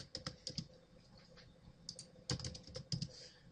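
Someone types a password on a computer keyboard in a quiet room, sending out irregular bursts of close, soft key clicks separated by short pauses.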